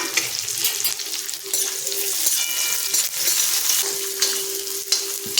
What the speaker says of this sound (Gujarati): ડુંગળી આપણે 2 મિનિટ માટે સાતળવાની છે